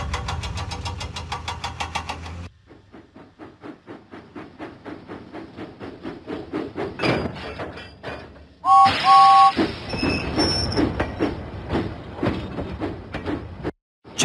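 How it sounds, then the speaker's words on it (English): Steam engine puffing out of the docks in a children's train video game, with steady chuffing beats under game music and a bright chime midway, fairly loud and continuous. "James pumped his pistons and puffed out of the docks."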